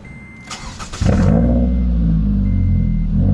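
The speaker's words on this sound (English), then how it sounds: "We're gonna get a start up so you guys can listen, hear the exhaust, and it sounds pretty nice." A 2015 Scion tC engine cranks and fires up, settling into a loud, steady exhaust idle close by, with no talking over it.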